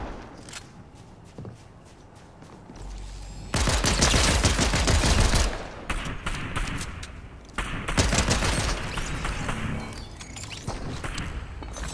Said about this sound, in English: I said stop shooting at me, not shoot at me more